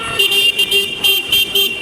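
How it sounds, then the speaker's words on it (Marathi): A motorcycle horn honks in a rhythmic pattern of five or six short, loud, tonal toots in quick succession during a moto vlog ride, with a steady engine and road hum underneath. "हे मित्रांनो याच्यात आवाज बघा, आता हॉर्नचा आवाज बघा."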